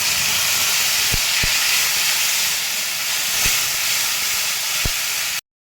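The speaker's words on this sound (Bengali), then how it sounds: "আমি এবার একটা বড় সাইজে টমেটোকে পেস্ট করে নিয়েছি। এবার এটাকে আমি ঢেলে দিচ্ছি।" Tomato paste poured into a hot pan for a Marwari-style soybean curry, giving a loud, steady sizzling hiss throughout with a few sharp clicks and no voices.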